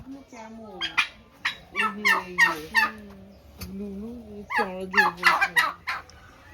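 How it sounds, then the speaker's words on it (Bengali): Rapid, warbling gobbles from turkeys repeat in bursts, fairly close, with chicken and rooster calls mixed in among them. "এখানে মুরগি আছে, মোরগ আছে, টার্কি আছে।"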